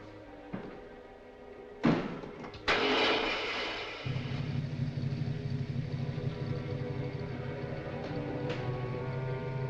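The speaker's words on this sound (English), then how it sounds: "Start the motor." A motor car engine from a 1940s setting turns over and settles into a steady, loud idle, preceded by a few sharp knocks and a door-like slam, with no talking.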